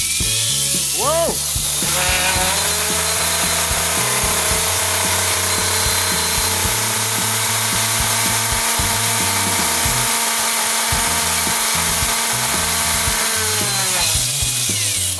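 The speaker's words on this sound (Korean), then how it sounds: "작년 겨울에 있었던 극악 미니카 대회에서 1등을 차지했던 모터입니다" Tiny high-speed motor of a mini 4WD toy car spinning up in a speed test, a loud, sharp whine that rises, holds steadily for over ten seconds, then winds down, with a brief exclamation near the start.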